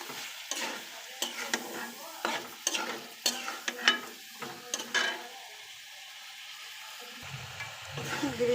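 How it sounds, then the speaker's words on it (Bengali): Chicken meat being turned and fried in a pan: a quick series of rhythmic scraping stirs over a sizzle, then a quieter pause before stirring noise returns. "এই মুগরির গোশ দিলাম, গোশগুলো একটু নাড়াচাড়া করে নিয়ে কষাইতে দেব।"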